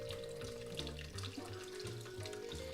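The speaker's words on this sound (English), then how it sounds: "adding, well, water from my brew kettle and adding it to the mash tun." Water from a brew kettle pours steadily into a mash tun while brewing an English golden ale, a continuous splashing, gushing stream close by and fairly loud throughout, with no voices.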